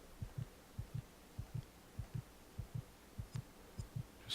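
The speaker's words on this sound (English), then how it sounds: "You can tell because you can hear the heart beating" A heartbeat sounds in Silent Hill Origins as the low-health warning, a regular double-thump pulse repeating about every 0.6 seconds, soft and low, with no talk over it.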